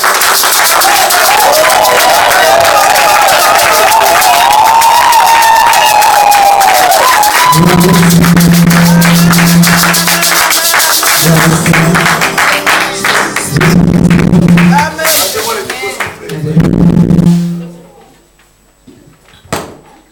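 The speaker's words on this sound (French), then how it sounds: "Quand elle va faire son entrée, nous acclamons" A church congregation applauds and cheers as a woman preacher enters, a loud dense wash of clapping and crowd noise over a sustained music tone, fading out near the end.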